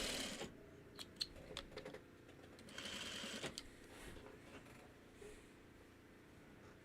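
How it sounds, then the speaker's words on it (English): A sewing machine stitches a Farmer's Wife Shooting Star quilt block, its needle running in short, quiet bursts of rapid mechanical whirring, starting and stopping, close by and with no talk. "Let's cut that there, and we'll sew off on this."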